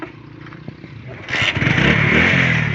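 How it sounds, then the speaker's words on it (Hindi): A motorcycle is switched on and started: quiet handling noises and a few clicks, then the engine catches and settles into a loud, steady idle rumble close by. "आप स्विच को ऑन करो बाइक के, और बाइक को स्टार्ट करो।"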